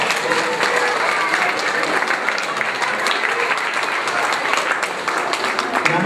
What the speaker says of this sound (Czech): prosím, zatleskejte